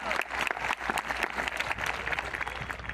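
Audience applause at a Santa Fe High School graduation ceremony, a dense and steady wash of many hands clapping from a large crowd that carries on across the whole stretch.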